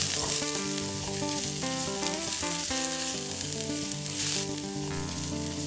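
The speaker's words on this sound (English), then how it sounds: "Heat 2 tablespoons of oil in a frying pan. Add 15 grams of sliced ginger." Sliced ginger sizzling in hot oil in a pan, a constant bright crackle heard up close with music playing underneath.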